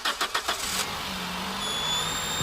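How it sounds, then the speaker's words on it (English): A Toyota Corolla XRS, just fitted with dual oil catch cans, starts up. A few quick starter cranks catch into a steady, close idle. "Hopefully I don't have issues starting the car this time."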